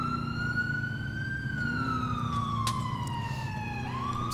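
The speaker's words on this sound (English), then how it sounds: "Did that ambulance seriously just run through all those?" An ambulance siren in the video game GTA with the LCPDFR mod wails continuously in slow rising and falling sweeps over a low engine rumble, loud and steady throughout.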